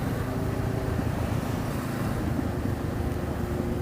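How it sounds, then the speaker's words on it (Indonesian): A Honda CB500X motorcycle engine rumbles low and steady on a weekend group ride, a continuous deep drone with road and wind noise throughout and no clear pass-by peak. "suaranya bulet gila tuh motor"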